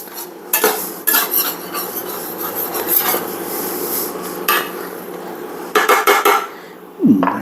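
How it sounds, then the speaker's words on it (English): A metal utensil scrapes and stirs against a pan while mixing pizza cobbler, loosening browned bits; repeated close rasping strokes and clinks come in uneven bursts with brief pauses. "scrape off a little bit of those delicious"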